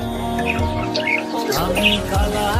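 Red-eyed Java sparrow chirping in a cage among other pet birds, with bright, repeated tweets layered over a busy background of several birds calling, at close range.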